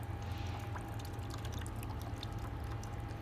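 Water drains and trickles steadily from a squeezed fabric root pouch holding a balled-and-burlapped plant's roots, a continuous close pour with scattered drips and no talk.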